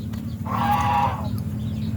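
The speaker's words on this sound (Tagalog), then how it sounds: "inahing manok." A single short hen cluck sounds once over a low, steady background hum.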